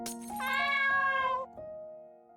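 Cats meowing in the video game Midnight Train, a close, loud drawn-out meow followed by a shorter second cry, with no talking.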